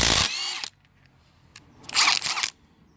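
A Milwaukee M12 stubby impact wrench runs at top speed in two short, loud whirring bursts. The first is brief, and the second comes about a second later after a near-silent pause.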